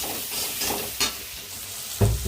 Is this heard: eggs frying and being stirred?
yes